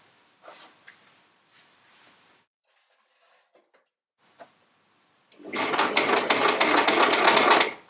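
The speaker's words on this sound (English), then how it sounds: "start sewing onto your first block" A sewing machine stitches onto a quilt block during chain piecing: a few soft handling knocks and rustles, then a loud, close, steady mechanical run that starts abruptly and holds for the last few seconds.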